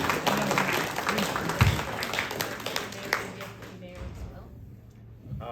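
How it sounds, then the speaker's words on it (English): Scattered clapping from a small audience at a Derwent Valley Council meet-the-candidates session, brief and uneven with individual claps audible, fading out toward the end amid room murmur. "give them a round of applause for fronting up today"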